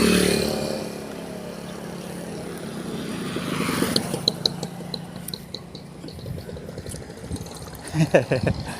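Many motorcycles pass by on a road, their engines droning and rising as they go past close by, with scattered louder bursts near the end.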